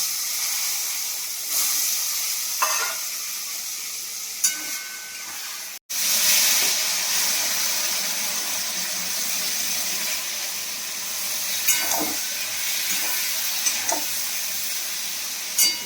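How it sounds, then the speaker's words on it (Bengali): Raw green banana pieces are lightly fried in a pan, producing a steady, moderate sizzle with a brief break partway through and occasional soft stirring knocks. "তারপরে এই যে কাঁচকলা গুলো হালকা করে ভেজে নেব।"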